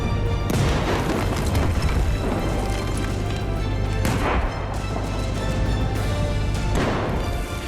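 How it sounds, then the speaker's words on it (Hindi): Israeli navy ship fires on Hezbollah targets from the sea, producing heavy booms and blasts over a loud, continuous rumble, with sharp new impacts landing every few seconds. "गौर से देखिए कैसे इजराइल की नौसेना हिजबुल्लाह के आतंकी ठिकानों को टारगेट कर रही है"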